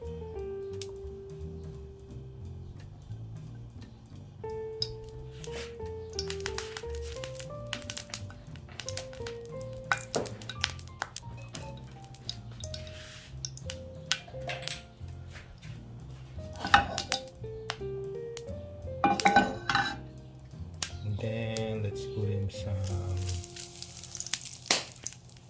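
Pepper sizzles in hot oil in a dry, heated pan, a soft crackle running under occasional clinks of a utensil against the pan, with faint background music throughout.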